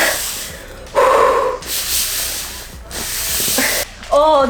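Two dogs, Alfred and Bruce, snuffle and huff right at the microphone in hissing, breathy bursts, with a couple of short whiny yelps and whimpers close by.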